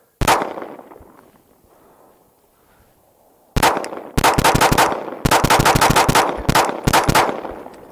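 A ZRO Delta FKS-9 Glock-clone pistol fires one loud shot, pauses, then lets off fast strings of close, sharp shots in quick bursts with brief gaps between them.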